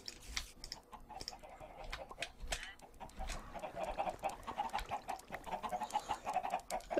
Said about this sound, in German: Oha, die Hühner sind auch wohl überproduktiv.